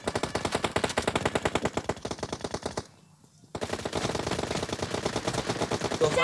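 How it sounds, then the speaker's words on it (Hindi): Rapid automatic gunfire from PUBG Mobile rattles in fast bursts, loud and close, with a short pause of near silence before the firing resumes steadily. "तो गाइज आपने पबजी के गन साउंड तो सुनी लिए हैं"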